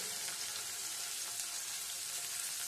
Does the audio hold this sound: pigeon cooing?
no